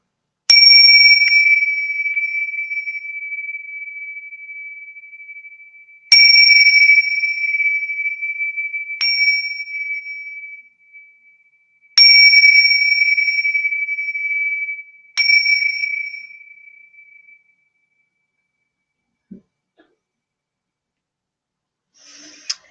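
A small bell rings out five times for a space clearing, each bright, clear strike sustaining and slowly fading, spaced a few seconds apart, followed by near silence with a couple of faint soft knocks.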